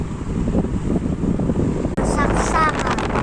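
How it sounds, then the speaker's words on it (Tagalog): Strong wind buffets the microphone with a loud, continuous roaring rumble throughout, briefly cutting out midway before resuming; people's voices can be heard amid the gusts. "Ang hangin."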